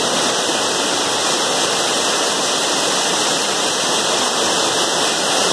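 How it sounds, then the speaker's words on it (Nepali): Baghmara waterfall in Melamchi, Sindhupalchok, Nepal, drops from high on a mountainside in a loud, dense, constant roar that fills the whole stretch without pause or voices. "यहाँदेखि थोरै नजिकमा अब हाम्रो झरना"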